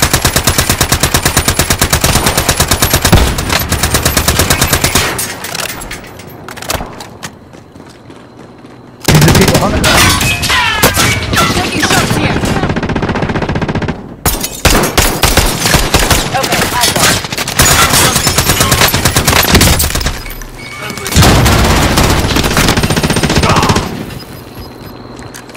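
Automatic weapon fire in a battle royale video game, including a Kar98k rifle: long, loud bursts of rapid shots, broken by short pauses, with a quieter stretch partway through.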